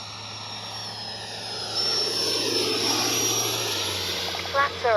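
A Freewing 90mm T-45 Goshawk RC jet makes a pass with flaps down, its steady electric ducted-fan whine and rushing roar swelling as it comes closer, then holding loud over a faint background hum.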